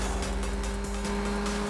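A car speeds off at night with its headlights switched off, engine roaring loud and close in a steady, sustained rush with a brief dip midway, no talking.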